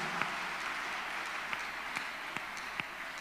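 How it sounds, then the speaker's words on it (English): Congregation clapping hands during a Thursday counselling and deliverance church service, heard as a faint, distant wash of applause with a few sharper claps standing out at intervals. "Clap your hands unto God of the chosen"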